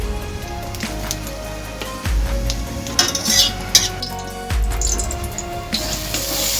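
Whole cumin crackles and sizzles in hot mustard oil, with intermittent clinks of a utensil against the pan and a low hum underneath.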